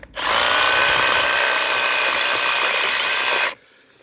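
A Makita DUH606 18V LXT brushless cordless hedge trimmer cutting through a thick branch: a loud, close, steady mechanical whir for about three and a half seconds, then it cuts off sharply.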